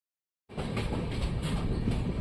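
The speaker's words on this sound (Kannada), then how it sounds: "ನಮ್ಮ ಟ್ರೈನ್ ಈಗ ಸೇಡಮ್ ರೈಲ್ವೆ ಸ್ಟೇಷನ್ ಔಟರಲ್ಲಿದೆ" A passenger train runs near Sedam railway station in Karnataka, a dense, steady rumble and rattle that starts abruptly after a brief silence and continues evenly.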